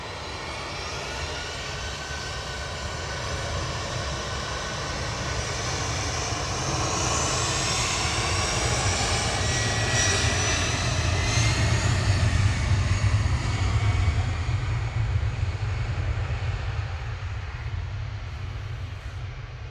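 A Brussels Airlines Airbus A319 jet at Manchester Airport rumbles continuously, its engine roar building gradually with a rising whine, loud and steady throughout with no one talking.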